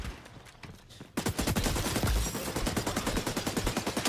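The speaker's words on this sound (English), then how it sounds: "my gun just did its own thing. I released the shoot button a while ago, but it still kept shooting" Rapid automatic gunfire from an xDefiant weapon that keeps firing after the trigger is released, a sustained loud burst of evenly spaced shots starting abruptly after a quiet moment and continuing steadily to the end.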